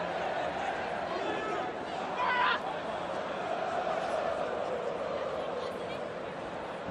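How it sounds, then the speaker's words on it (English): A stadium crowd at a Rugby World Cup Sevens 2022 semi-final between England and Kenya in South Africa cheers the team on, a steady broad roar of many voices that swells briefly before settling back to a sustained din. "And the crowd are urging them on."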